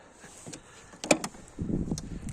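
Car doors on an older VAZ shutting with firm thuds, one sharp clunk in the middle followed by a duller, rumbling close, heard fairly near with no talk.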